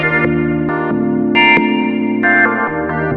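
An Arturia Prophet-5 V software synthesizer plays sustained chords with a washy reverb tail, changing every half second or so; full, smooth tone with no wobbling chorus shimmer.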